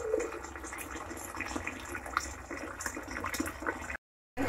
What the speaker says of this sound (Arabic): شايفين الحلة تحت الحنفية والمية شغالة اهو كده